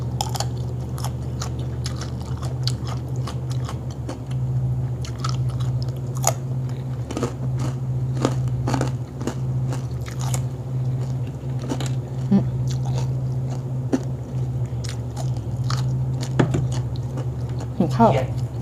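Crispy fried frog is bitten and chewed up close, with repeated crunchy snaps and wet chewing over a steady low background hum.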